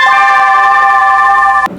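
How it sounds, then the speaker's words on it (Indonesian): A school break bell rings during a school musical drama, a loud, steady electronic tone that holds for almost two seconds and then cuts off abruptly. "Suara bel istirahat pun berbunyi."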